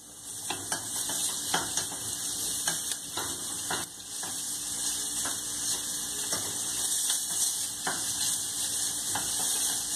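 Half a chopped onion browning in olive oil, a constant bright sizzle with repeated clicks and scrapes of a utensil against the pan throughout, close and without talk.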